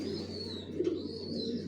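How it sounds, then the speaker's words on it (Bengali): Johnson-line racing pigeon squabs in a loft give faint, low coos over a quiet, steady background hum, with a brief soft flutter midway. "অরিজিনাল রেসার জনসন লাইনের, সব লংয়ের কবুতর"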